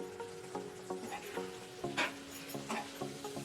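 A spoon stirs meal maker masala curry in a pan, with repeated soft scraping strokes over a low sizzle, no talking.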